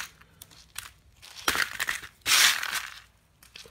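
A hammer cracks open a quartz geode from a crystal kit. Sharp, close crushing impacts come in uneven bursts, with a loud crunch near the middle and a heavier grinding smash shortly after, separated by quieter gaps.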